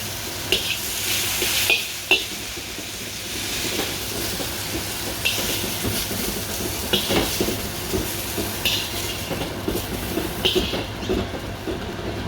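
Chicken pieces roasting in a pan with curry powder and turmeric, a steady close sizzle and hiss with occasional light clicks and scrapes.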